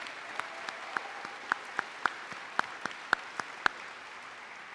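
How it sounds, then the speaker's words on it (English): Sparse, faint clapping from a small audience at a middle school promotion ceremony honoring band participants: a dozen or so distinct, separate claps spread over several seconds rather than a full ovation. "Let's give our band participants a round of applause."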